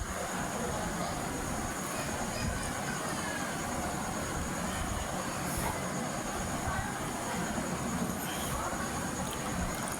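An elevated metro train at Uttara Diabari passes overhead with a continuous loud rumble and roar that stays steady throughout, mixed with street traffic below.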